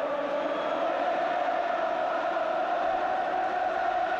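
Large football crowd at Stamford Bridge during a 1970s Chelsea versus Liverpool FA Cup tie, a steady dense roar of many voices filling the stadium, loud and continuous with no single voice standing out.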